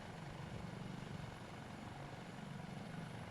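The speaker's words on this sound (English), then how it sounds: "This helicopter flies really comfortably." Dauphin helicopter in a flight simulator game, a steady rotor thrum with a rhythmic beating pulse and engine whine, continuous and even, fairly faint, with no voices.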